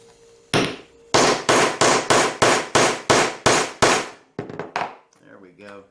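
Hammer blows peening over the end of a rivet on a knife sheath: nine sharp, evenly spaced strikes ring out up close, followed by a few lighter taps and a brief murmur of voice.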